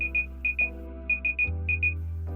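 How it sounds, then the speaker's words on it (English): A repeating electronic beep pattern, paired high tones in a steady rhythm over a low hum: an over-temperature audible alarm on a Combat BRS v5 HIVEC unit. "an audible alarm will be activated"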